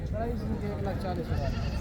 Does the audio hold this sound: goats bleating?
yes